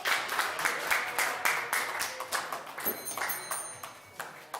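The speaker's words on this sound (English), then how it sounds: "Give them a round of applause." Scattered clapping from a small crowd, uneven and fairly light, tapering off over a few seconds.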